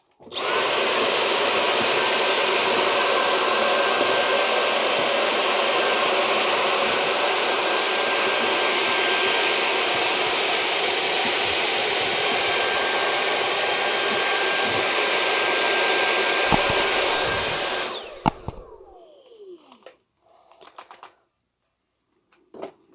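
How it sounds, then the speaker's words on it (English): A vacuum cleaner with a stocking stretched over its nozzle sucks loose model-scenery scatter off a rock face, running loud and steady for about eighteen seconds before winding down and cutting off, followed by faint handling noises. "now I'm just going to use the vacuum with stocking over the end just to vacuum off the excess"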